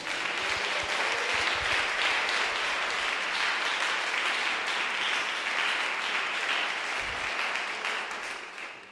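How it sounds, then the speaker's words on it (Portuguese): Church congregation applauding during a sermon, a sustained wash of many hands clapping that fills the room evenly and fades slightly at the end, with no voices over it. "Pode dar uma salva de palmas para Jesus."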